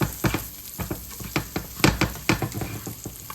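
Food sears in butter in a hot pan with close, crackling sizzles and bursts of popping spatter in an uneven, lively rhythm, heard alone without talk.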